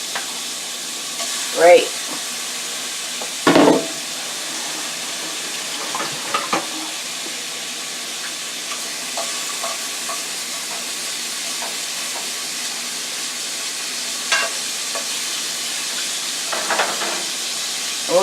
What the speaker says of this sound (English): we're going to drop the shrimp in